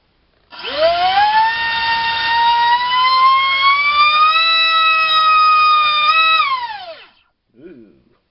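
EMAX RS2306 2750kv drone motor on a thrust test stand, whining loud and close as it spins up, the pitch climbing over about six seconds before winding down, then a short second burst.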